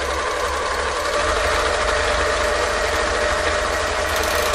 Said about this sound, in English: So I get my fabric into position and then I just sew away